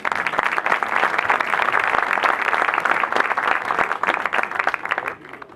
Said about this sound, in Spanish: Muchísimas gracias y un aplauso para él.